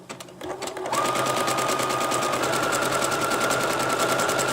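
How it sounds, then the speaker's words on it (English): A sewing machine stitches fabric backed with tearaway stabilizer for a pillow cover, starting after a brief pause and then running as a steady, close, continuous whirring hum with a fast mechanical pulse. "you just want to let the machine sort of go at its own pace"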